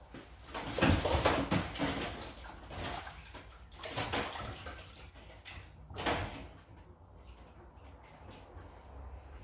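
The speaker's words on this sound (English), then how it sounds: "I'll just wash my hands and then I'll be back." Running water splashes steadily in a home kitchen sink during hand washing, with louder surges and a few bumps of handling, fairly close and with no talking.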